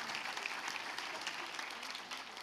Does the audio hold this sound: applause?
yes